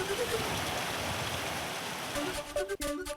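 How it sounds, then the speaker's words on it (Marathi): A heavy pre-monsoon downpour with strong wind and hail in Maharashtra: a dense, loud, steady roar of rain with no break, and a brief voice near the end. "वादळी वारा आणि गारपिटीसह अर्धा तास पाऊस झालाय"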